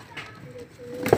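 Flying pigeons kept in small coops give a brief, soft cooing under a voice, over about a second.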